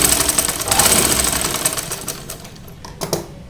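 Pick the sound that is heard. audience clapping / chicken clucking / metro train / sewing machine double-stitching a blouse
sewing machine double-stitching a blouse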